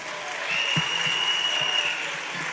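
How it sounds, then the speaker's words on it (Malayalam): Steady audience applause at a college campus inauguration event, a dense, even wash of many hands clapping close by for the full stretch, with faint voices in the background. "ഇവർക്ക് വേണ്ടി ഒരു വലിയ കൈയടി കൊടുക്കണം പ്ലീസ്"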